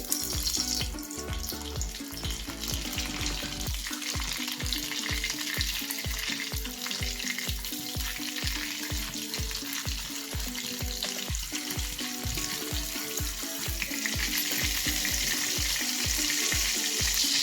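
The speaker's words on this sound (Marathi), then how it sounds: "यात आपण थोडंसं बटर घालून घ्यायचंय." Steady loud sizzling of butter and oil on a hot griddle for pav bhaji, with rhythmic scraping and stirring clatter throughout, close up and continuous.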